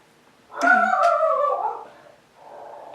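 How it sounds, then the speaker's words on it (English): A dog nearby gives a drawn-out, wavering howl lasting over a second, followed by a softer whining tail, with no other sound around it. "That's the dog."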